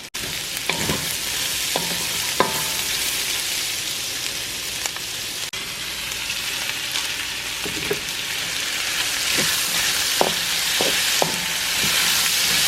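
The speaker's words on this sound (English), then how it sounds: "So now I'm gonna add in the onion, cook that for a little bit, and then I'll add the garlic." Onion and pork belly frying in a pan, a steady bright sizzle running throughout, with scattered clinks and scrapes of a utensil stirring at intervals; no talking.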